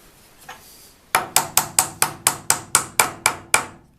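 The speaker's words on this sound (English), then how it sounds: "I've got a pin, so I'm just going to fill her up and hammer it in" A hammer drives a pin into a wooden Japanese geta sandal with about eleven sharp, evenly spaced strikes in quick succession, close and clear with no speech.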